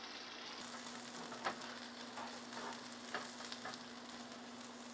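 Rehydrated freeze-dried potatoes and corned beef frying in a pan, a steady close sizzle with occasional soft scrapes and stirring knocks, heard alone without talk.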